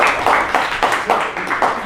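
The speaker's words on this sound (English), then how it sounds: "Clap your hands." A group claps in a steady rhythm, about seven sharp, even beats, loud and close with no talking.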